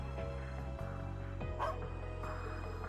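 A cartoonish dog barks a few times in the video game Trails into Reverie, with short yips over steady game music. The barks are fairly close and mid-level in volume.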